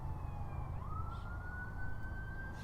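An ambulance siren wails as it approaches near a pool, a single sustained tone that slides upward and holds, steady and moderately distant, with no talking over it.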